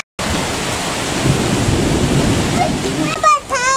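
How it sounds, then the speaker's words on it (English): Rain beginning to fall outdoors on a hot evening as a thunderstorm moves in, a steady broad wash of noise throughout, with a brief voice and movement near the end. "It's just starting to rain."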